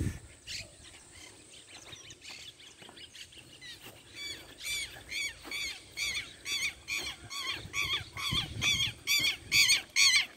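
A parakeet on a small rural farm squawks in a series of shrill, repeated calls that start sparse and quiet, then come in a fast, loud, regular run through the second half.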